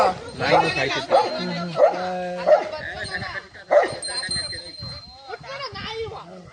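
A dog barks and yelps repeatedly at a cobra with its hood raised, in short bursts, close and fairly loud, while people talk throughout.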